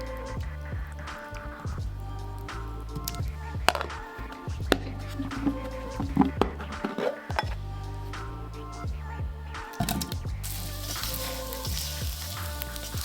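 Tempeh coated in sauce cooks in a pan, giving a steady close sizzle and bubbling with occasional stirring clinks and utensil taps throughout.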